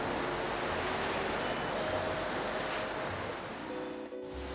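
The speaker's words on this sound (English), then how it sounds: "sleeping to the sound of the ocean" Ocean waves wash steadily onto a beach on Molokai, Hawaii, in a continuous broadband surf roar with light wind, ending in a short, sudden quiet near the end.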